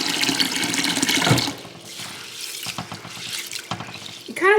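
Tap water runs into a kitchen sink as produce is rinsed, a steady close splash with intermittent knocks and clatters of items being handled, ending with a brief louder gush.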